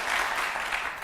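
Steady applause from an audience at a political question-and-answer event in Sulaymaniyah, a dense wash of clapping that runs evenly through the moment at moderate distance.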